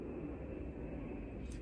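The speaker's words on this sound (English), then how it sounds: "I don't know if you guys can hear when the airplanes be passing over, but it sounds loud to me." An airplane passes overhead near an Air Force base, a steady, loud, broad rushing roar that holds level throughout with no voices over it.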